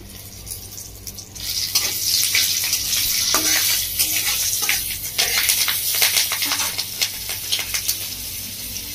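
Two green chillies drop into hot oil in a Bengali kitchen, setting off a loud, continuous sizzle with crackling pops that rises sharply and holds steady.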